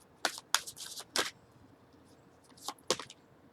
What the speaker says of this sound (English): I'm going to pull one on this Magician too